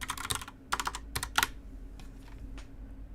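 Keys clatter on a computer keyboard in quick bursts of typing with short pauses between, close by, with no talk.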